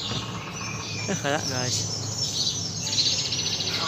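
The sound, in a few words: birds chirping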